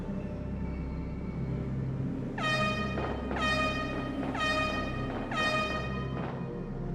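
An air horn in the video game Resident Evil 2 sounds four times, each a loud, bright blast about a second long, over a low steady rumble with no talking.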